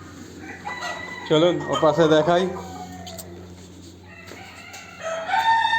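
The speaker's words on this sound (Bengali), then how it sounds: "এটা হচ্ছে ব্ল্যাক মুরগি। আর এটা হচ্ছে সাদা মুরগি" Chickens, black and white crested hens, clucking and crowing in a Kuwaiti garden with pigeons and peacocks nearby, one loud nearby crow rising and falling, with scattered clucks and brief talk over them.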